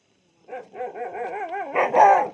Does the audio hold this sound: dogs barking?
yes